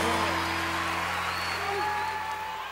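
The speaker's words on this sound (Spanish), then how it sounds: "Aplausos." A large concert crowd at Luna Park claps for a cumbia singer, a broad sustained wash of applause with a steady hum of stage sound beneath it.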